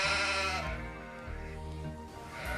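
Sheep bleating in a flock, several overlapping calls that rise and fall steadily across the whole stretch, close and fairly loud with no voices.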